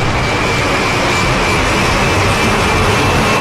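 Loud, steady broadband rush of a fast-moving vehicle, a plane or car captured for a sniper game's kill cam, with a faint high whine running through the whole stretch and no voices.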